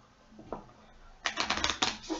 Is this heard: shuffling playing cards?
yes